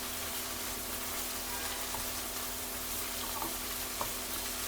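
Chopped onion and cabbage fry gently in a pan for Nepali-style chow mein, a soft steady hiss of sizzling held at a low, even level with a few faint ticks and no talk.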